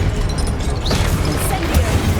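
An Expelliarmus disarming spell is cast in Hogwarts Legacy, a short whooshing zap that sweeps through the middle of a steady game soundscape.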